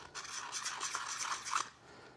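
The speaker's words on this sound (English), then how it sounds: "Noga does make a different style of deburring tool. Uh, this just goes in there and then you rotate like this" A Noga deburring tool twists inside a hole in 3D-printed plastic, making a steady, close scraping rasp that lasts under two seconds before fading.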